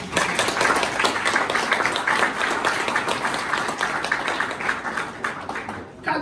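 An audience applauds at the launch of an inclusive education master's programme at a university, dense clapping holding strong before easing slightly near the end.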